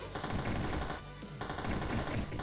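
Rapid gunfire from a game, Still Not Dead, rattles loud and continuous for about a second, breaks off briefly, then resumes in dense bursts with no voices over it.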